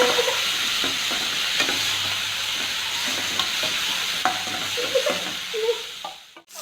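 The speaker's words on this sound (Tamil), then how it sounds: "அது கூட 2 டேபிள் ஸ்பூன் இஞ்சி பூண்டு விழுது சேர்த்து வதக்கிக்கிறேன்" Tomato and ginger-garlic paste sautéing in a pan for chicken semiya biryani, a loud continuous close sizzle with light stirring scrapes, fading out at the very end.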